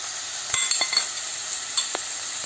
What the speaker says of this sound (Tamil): இப்போ வந்து வெங்காயம் வதங்கியாச்சு. நம்ம இந்த தக்காளியை சேர்க்குறோம்.